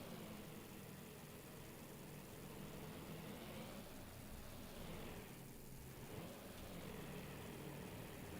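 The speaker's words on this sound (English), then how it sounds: "Listen to the sounds for the engines." Aircraft engines in the naval combat game Task Force Admiral, a continuous droning propeller roar that swells and fades as planes pass back and forth overhead.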